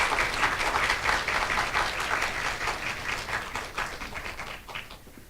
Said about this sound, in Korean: 모두 박수로 박연관 교무처장님을 만회해 주시기 바랍니다.